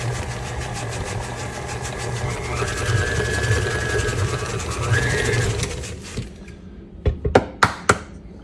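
An electric mixer whirs steadily as it beats snickerdoodle cookie dough with an egg, a continuous motor drone that cuts off near the end, followed by a few sharp clicks and knocks.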